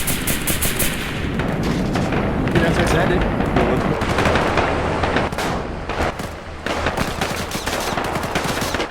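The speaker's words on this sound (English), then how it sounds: "They're landing under heavy fire." Heavy gunfire from the military simulation game Arma 3, a dense, continuous barrage of rapid shots and bursts, loud and close, with a few sharper cracks standing out across the whole stretch.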